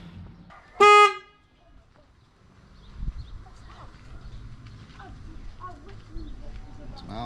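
A Denali aftermarket horn on a BMW R 1300 GS motorcycle gives one short, loud, bright honk, followed by quiet workshop ambience and faint background noise.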